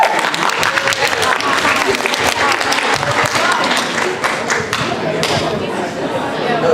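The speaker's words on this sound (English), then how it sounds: "You can clap now." A live science-show audience claps steadily and loudly for several seconds, a dense patter of many hands with scattered sharper slaps and a murmur of chatter running underneath.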